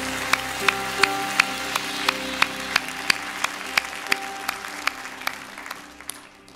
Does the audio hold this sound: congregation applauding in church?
yes